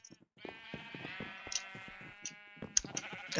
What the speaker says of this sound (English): Got yellow sheep.